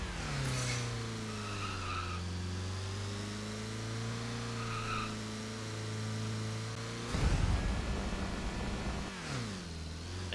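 Tires skid and squeal as a car drifts in a driving simulator video game, with the engine droning steadily beneath. A louder skidding burst comes near the end. There is no talk.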